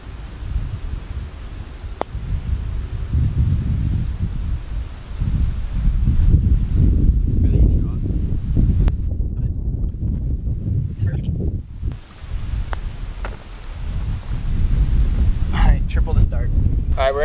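Steady, heavy wind buffets the microphone on an open golf course, a loud low rumbling roar that runs the whole time with gusty swells and only brief lulls.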